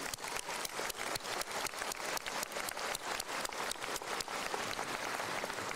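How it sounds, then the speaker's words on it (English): A school commencement ceremony audience applauds the students' families, a dense, steady wash of many hands clapping together that fills the whole stretch at an even level without a voice over it. "So let's give them a round of applause"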